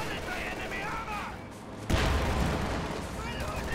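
A Sherman tank fires at a half-track in a World War II strategy game, a sudden heavy boom bursting over ongoing battle noise and rumble.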